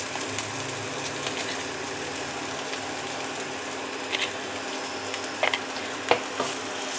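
Potatoes fry in a pan with turmeric and cumin powder for a vegetarian dish, giving a steady close sizzle with a few light clinks and stirring scrapes.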